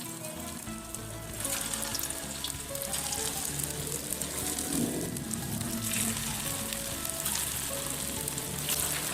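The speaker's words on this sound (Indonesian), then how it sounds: "Hash brown akan saya goreng sampai berwarna keemasan." Homemade McDonald's-style potato hash browns deep-fry in hot oil, giving a loud, close, continuous sizzle and crackle that stays steady without talk.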